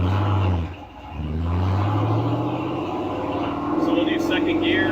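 A Ford Racing 427ci V8 in a 1935 Factory Five hot rod idles with a steady low rumble, then climbs in pitch as it revs, the engine noise loud and close throughout.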